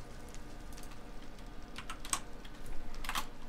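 Quick bursts of clicking on a computer keyboard, faint and close, clustering into two short flurries of keystrokes over a quiet room hum.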